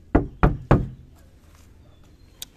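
Three quick, solid knocks on the thick sheet-metal body panel of a Nissan Grand Livina, close and sharp with short decays, followed by quiet with one faint tap.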